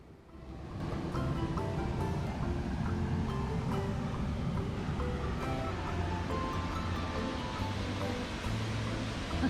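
A Wisconsin waterfall rushes in a steady, broad roar of falling water that stays even and unbroken throughout, fairly close and with no voices over it.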